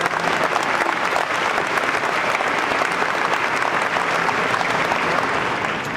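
A large audience at a 2013 East Stroudsburg University commencement ceremony applauds a graduate, loud and sustained, with the clapping holding at one steady level throughout.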